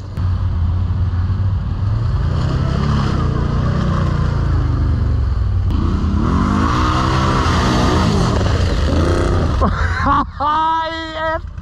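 Can-Am Renegade ATV engine revving hard while driving offroad through a ditch and mud, loud and continuous, with a sharp high squeal near the end; voices talk over it.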